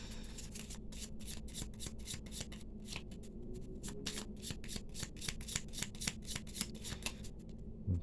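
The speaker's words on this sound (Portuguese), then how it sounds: "eu vou embaralhar, cortar um monte e colocar cartas aí na mesa" Tarot cards are shuffled and cut by hand on a table, a steady run of quick, close riffling flicks and soft rubbing taps with no talking.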